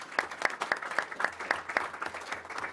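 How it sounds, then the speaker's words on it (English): A seminar audience claps for a panel discussion, the applause steady and moderate with sharp repeated hand claps standing out over a general crowd patter for a few seconds. "a round of applause to the panel."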